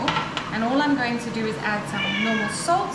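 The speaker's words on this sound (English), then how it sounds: "If you can hear some meowing, it is getting close to his dinner time." A pet cat meows several times in a home kitchen while someone talks over it during cooking, the rising and falling meows clear and fairly close beneath the voice.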